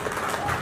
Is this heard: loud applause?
yes